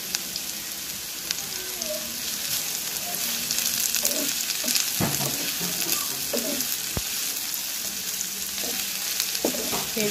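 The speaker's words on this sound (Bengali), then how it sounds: "পেঁয়াজগুলো ভাজা ভাজা হয়ে আসা পর্যন্ত আমি অপেক্ষা করব" Chopped onions sizzle and crackle steadily in hot oil in a pan, with occasional stirring clicks and scrapes, close and continuous throughout.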